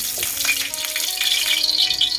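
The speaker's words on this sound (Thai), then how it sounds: "พอน้ำมันร้อน เราก็ใส่หมูสามชั้นค่ะ" Pork belly fries in a small amount of hot vegetable oil in a wok, giving a steady, close crackling sizzle with a few light rattles, and no talk over it.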